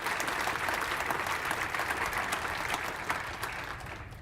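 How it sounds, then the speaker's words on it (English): Audience applause at a domestic abuse awareness luncheon, honoring elected officials who stood up; dense, steady clapping from a large room that holds evenly and fades slightly at the end, with no talking. "A round of applause for these folks."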